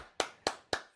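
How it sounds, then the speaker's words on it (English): Three sharp hand claps in a slow, even rhythm, close and fairly loud, each dying away quickly, as a short round of applause for a live chat audience. "One more round of applause for the best chat on YouTube"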